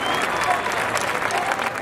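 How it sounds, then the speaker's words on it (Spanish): Festival crowd applauding at the proclamation of the Fiestas de Los Dolores in the Schamann district, a steady, dense wash of clapping hands filling the whole stretch without a break. "Ese fuerte aplauso para él porque se lo merece"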